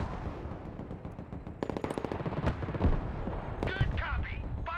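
Gunfire rattles in the video game Broken Arrow, rapid machine-gun bursts and thudding artillery-like impacts trading back and forth, with radio voices talking over the fighting.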